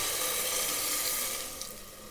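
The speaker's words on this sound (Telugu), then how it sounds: "దీంతో 4 గ్లాసెస్ వాటర్ పోస్తానండి" Water poured from a glass into a pot of rice for biryani, a brief steady splashing stream, close and continuous, fading slightly at the end.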